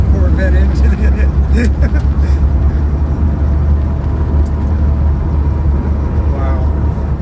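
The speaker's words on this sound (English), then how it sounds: "Seems weird sitting in a little car with a Corvette engine in it." Small car fitted with a Corvette engine, heard from inside while driving: a loud, steady low engine drone fills the whole stretch, with people talking over it.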